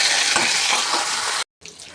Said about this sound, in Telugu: కొద్దిగా అల్లం ముక్కలు ఫ్రై చేసుకుందాం వేగిపోయి జీడిపప్పులు రెండు ఎండుమిర్చి కరివేపాకు బాగా ఫ్రై చేసుకోవాలి